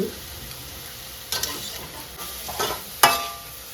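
Bitter gourd (ampalaya) is stir-fried in a pan, sizzling softly with a few scraping stirs and one sharper clatter of the utensil, close and alone.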